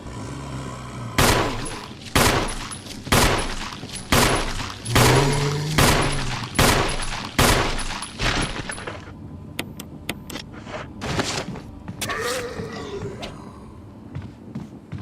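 Gunfire in the survival-horror game Resident Evil HD Remaster (PS5), played as Chris: loud, closely spaced shots in a steady rhythm for about eight seconds, followed by scattered fainter impacts and clatter.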